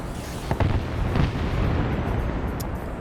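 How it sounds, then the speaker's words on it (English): Airstrike explosions in the military game SOG Prairie Fire: a continuous low rumble with a couple of heavier booming bursts, fairly loud and with no voices. "Oh, airstrike."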